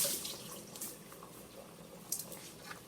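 Parsley or cilantro gets a brief rinse for boiled corn, with faint water splashing from a tap and dripping in a sink, irregular and soft with no talk.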